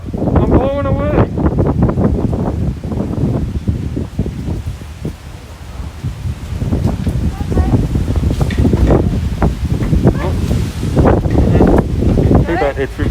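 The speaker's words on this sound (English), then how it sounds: "Wind!" Strong outdoor wind buffeting the microphone beside a parked van, a loud, constant rumbling roar with gusts that runs the whole time, while people talk through it.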